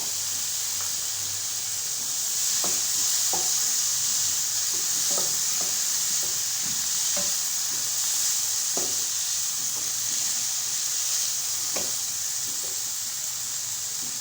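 A medium tomato cooks in a pan for a chicken sandwich, giving a continuous hiss and sizzle with a recurring clack of a spoon stirring and scraping. It sounds close and steady throughout, with no one talking.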